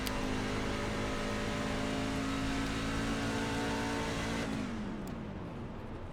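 Race car engine in iRacing at Legacy Atlanta, running out of fuel at the end of a fuel-mileage race: a steady, loud droning hum holds, then falls off and thins out near the end, with no talking.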